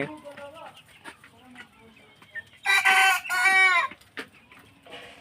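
Fayoumi laying hens on a farm cluck in short bursts, with a louder squawking run of calls in the middle, over quieter background chatter and farmyard noise.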